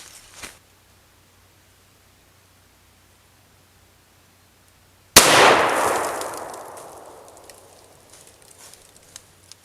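A 7.62x39 rifle round fired from 15 yards strikes a steel PASGT-style ballistic helmet: one sharp, very loud crack with a ringing decay trailing off over several seconds after a long silent lead-in.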